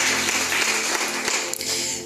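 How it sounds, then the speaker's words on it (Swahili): A worshipping congregation keeps up continuous, fast hand-clapping in praise of Jesus, a loud, even roar of many hands with light music tones faintly mixed in. "Mwongezee Yesu makofi mazuri."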